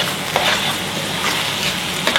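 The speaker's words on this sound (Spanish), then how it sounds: "Sofreír el arroz" Rice frying and being stirred in a pan, a brisk close sizzle with scraping stir strokes, heard alone.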